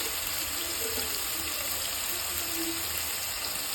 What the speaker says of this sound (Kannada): ಈಗ ನೀರು ಬಸ್ಬಿಟ್ಟು ಬಟಾಣಿ ಹಾಕ್ತಾಯಿದ್ದೀನಿ